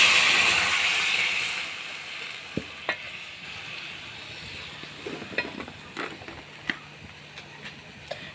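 Moong dal lentils poured into hot oil tempered with dried chilli, five-spice and garlic, giving a steady close sizzle that fades slowly, with a few soft clinks and stirring scrapes from the pan.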